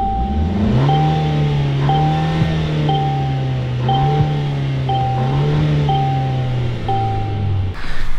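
A Mercedes C180 Turbo engine runs at a steady, quiet idle, a low smooth hum with a faint repeating tone chiming about once per second above it.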